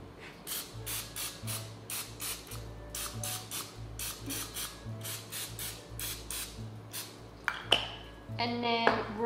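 Quick repeated bursts of spray hiss in a steady rhythm, close and moderately loud, with a few clinks of kitchenware near the end.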